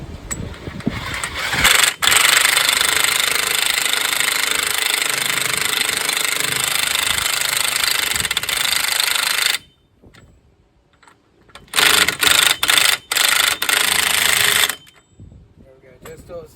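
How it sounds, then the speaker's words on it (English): Impact wrench on setting 2 tightening lug nuts during wheel bearing and brake work, one long loud rattling burst, a pause, then several short sharp bursts close by. "I find that setting number 2 on my impact wrench seems to torque them right about to the right amount every time"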